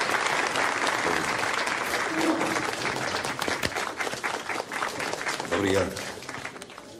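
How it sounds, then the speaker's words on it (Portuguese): A crowd at a festive celebration gives a sustained round of applause for Father António, loud and continuous throughout, with a voice speaking briefly over it near the end. "Uma salva de palmas."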